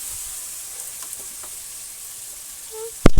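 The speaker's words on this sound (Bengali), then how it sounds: "রসুন আর পেঁয়াজটা ভালো করে কষাবো।" Garlic and onion frying in a pan in a village kitchen, a steady faint sizzle with a few light scrapes, then a sudden loud clatter at the very end.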